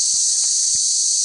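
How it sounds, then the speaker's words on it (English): Cicadas in the bush at night in Litchfield National Park, Northern Territory, a continuous loud high-pitched drone holding steady throughout, with a couple of faint low thumps like footsteps beneath it. "Ah, the sound of nature. Cicadas."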